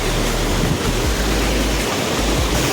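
Mountain stream rushing among boulders on the Kareri Lake trek in Himachal Pradesh, a steady, loud, broadband roar of water close by, continuous and unbroken with no voices.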